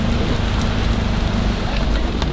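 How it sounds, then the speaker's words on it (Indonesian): Steady rain pours down outdoors at a car slalom event, a dense, even wash of hiss and patter that continues unbroken from start to finish with no voices. "Hujan. Hujan."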